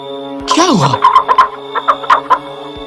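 Cartoon hen clucking in a fairy tale, a short run of rhythmic clucks following a rising squawk, heard over a steady music backdrop.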